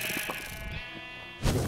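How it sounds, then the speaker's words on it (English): Sheep in a video game give a drawn-out, close bleat with a wavering tone, followed by a brief louder burst at the end, with no talking. "We just stole three sheep."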